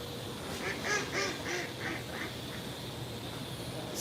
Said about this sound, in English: Scary duck.